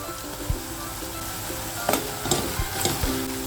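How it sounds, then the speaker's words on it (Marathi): Onion and red chili powder sauté in a pan for a stuffed snake gourd dish, a steady sizzle broken by several sharp scrapes and taps of a spoon stirring against the pan. "लाल मिरची पावडर चांगली परतून घ्यायची."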